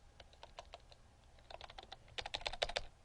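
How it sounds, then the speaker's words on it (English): Steady typing on a computer keyboard while entering text in a coding lesson, with quick clicky keystrokes that grow louder and denser toward the end, close and alone with no talking. "Let's type in some stuff in there."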